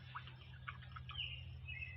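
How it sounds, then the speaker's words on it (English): Small birds chirp faintly in an outdoor park, a few scattered tweets over a low steady hum. "You can hear the birds chirping."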